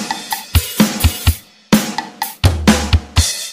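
Acoustic drum kit played at standard tempo for a pop-rock song, with deep kick hits, cracking snares and splashy cymbals in a punchy, uneven pattern that closes on a sustained crash. It is close, loud and has no talk.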